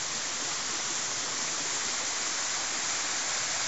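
A forest stream in a Czech protected landscape area flows beside a woodland road, giving a steady, dense rush of water that stays even and close throughout, with no voices.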